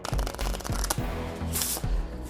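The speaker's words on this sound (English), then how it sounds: "Now I shuffle." Marvel Champions game cards being shuffled by hand on a tabletop, a few quick riffling bursts of crisp papery flutter and soft taps, close and fairly loud, with no talking.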